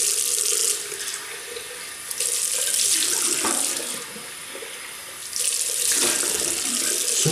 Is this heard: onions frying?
no